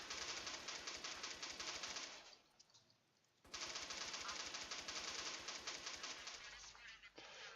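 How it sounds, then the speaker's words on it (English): Rapid automatic gunfire in Watch Dogs 2 rattles in dense, fast bursts, breaks off for about a second, then resumes and keeps going just as thick and close. "Who's shooting at me?"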